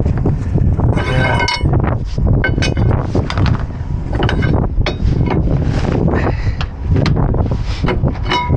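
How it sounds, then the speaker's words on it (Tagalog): Cold wind gusts and buffets against the microphone in uneven bursts, mixed with rattling mechanical noise, loud and close with no clear talk. "Lamig, mahangin."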